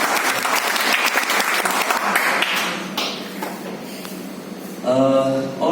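Audience at a business meeting in a hotel in Siliguri breaking into dense applause, many hands clapping continuously, tapering slightly before a voice speaks near the end.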